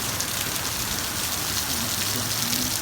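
Heavy rain pours down steadily during a Mojave Desert summer storm, flooding a front yard; a dense, continuous hiss of close drops drums on the ground and surfaces without letup.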